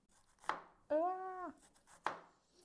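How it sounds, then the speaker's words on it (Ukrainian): A kitchen knife trims the tops off an onion: two sharp, close chops a second and a half apart, with a brief tonal squeak between them. "відрізаю дубки від цибулі"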